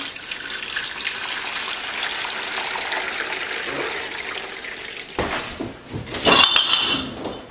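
Bone broth is poured back from one pot into another, a steady stream of liquid splashing for several seconds, followed by louder clanking of the metal pots near the end.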